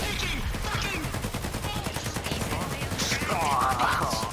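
Sustained gunfire during a GTA roleplay shootout: rapid, evenly spaced shots rattle on throughout, close and loud, with scattered other game sounds mixed in.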